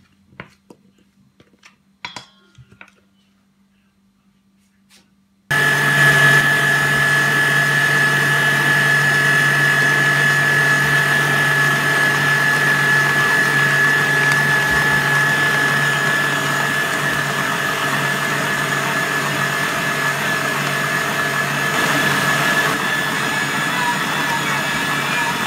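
An electric machine kneads bread dough made with 500 g of flour. After a few seconds of quiet handling clicks, a loud steady motor hum with a constant whine starts and runs unchanged to the end.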